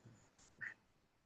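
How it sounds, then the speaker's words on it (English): A pet cat meows once, faint and in the background of a quiet indoor room, with no talking over it. "that's my cat in the background."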